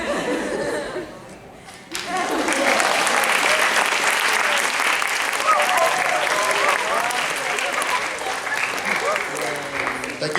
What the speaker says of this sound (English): Can we give another really huge round of applause to the POWIIS Primary Players?